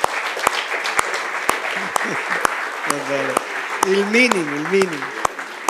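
Audience applause at a local gathering, a dense wash of clapping running throughout with sharp individual claps standing out, while someone speaks over it near the end.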